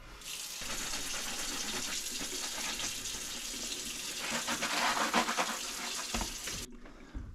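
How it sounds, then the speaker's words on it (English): Water runs steadily and hisses for about seven seconds while a 2019 Honda Africa Twin motorcycle seat pan is washed with soap and water, then stops abruptly. "I'm just going to clean this up with some soap and water."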